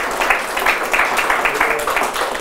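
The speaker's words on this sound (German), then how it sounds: "dass sie einen kleinen Applaus verdient hat" An audience at a panel discussion on welcoming refugees gives the guest who has just joined the podium a brief round of applause. The clapping is steady and fairly close, with murmured voices underneath.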